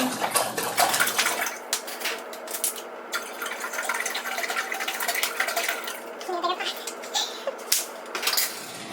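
Water from two bottles poured into a pot on a stovetop to make flaxseed gel for retwisting locs, a steady splashing pour running through most of the stretch, close and fairly loud with small clinks of the pot.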